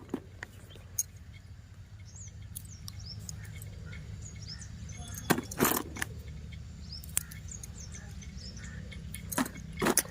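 A coconut is cracked open with sharp taps outdoors by a farm field. A few loud, crisp knocks stand out against quiet background ambience with faint bird chirps.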